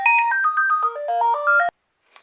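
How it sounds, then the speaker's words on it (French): A phone ringtone plays a bright, stepped electronic melody of rising and falling tones for under two seconds, then cuts off abruptly into silence with a faint click after, interrupting an Animal Crossing: New Leaf game session. "Putain de téléphone qui est venu tout gâcher."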